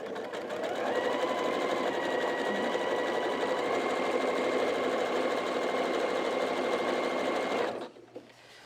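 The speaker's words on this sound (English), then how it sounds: "we're going to put this on the zigzag again" A sewing machine runs steadily on a zigzag stitch while sewing a fabric grocery bag, a close, continuous whirring hum for several seconds that stops abruptly, followed by a couple of faint clicks, no talking.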